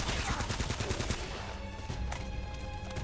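Rapid bursts of gunfire in the video game Uncharted: Drake's Fortune, a dense run of loud close shots in the first second and a half, then scattered lighter shots over a steady game background.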